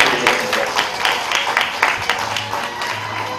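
Wedding guests applauding at a ceremony, a moderate patter of many hands clapping with soft irregular peaks, fairly close and steady, with a faint voice murmuring underneath.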